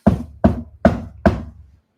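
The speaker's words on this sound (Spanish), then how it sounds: "usted escucha que tocan la puerta" Four firm knocks on a door at a steady pace, close and distinct, each leaving a short thud that fades before the next, with no voices.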